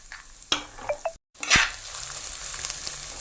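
Chopped onions sautéing in a pan for a Kerala-style tuna thoran, with a few sharp clinks and scrapes of stirring over a soft, faint sizzle.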